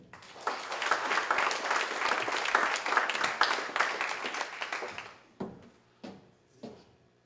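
An audience at a firefighters' recognition evening applauds a firefighter with a dense burst of clapping that lasts about five seconds, then thins to a few scattered claps before dying out.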